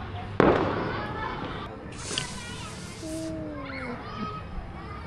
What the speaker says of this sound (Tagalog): Ang daming paputok sa bahay na yon, yung kulay white.